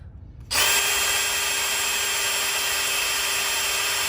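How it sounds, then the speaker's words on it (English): A cordless drill starts abruptly and runs at a steady, high-pitched whine, close and loud, with no pause, drilling into a broken steel cylinder head bolt. "Okay, time to drill it out."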